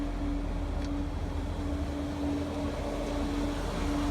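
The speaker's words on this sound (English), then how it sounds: "There's a road sweeper driving past at the moment." A road sweeper drives past on a residential street, making a steady, loud mechanical drone with a low rumble and a constant hum that fills the whole stretch without letup and with no talking.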